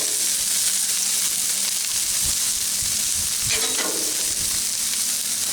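Sliced sweet onion with green and red peppers sizzle steadily on a hot Blackstone griddle for cheesesteaks, a loud, continuous, even frying hiss with no one speaking.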